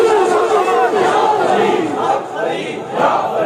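A large religious gathering chants devotional slogans in unison, a loud continuous roar of many voices rising and falling in waves, close and dense throughout.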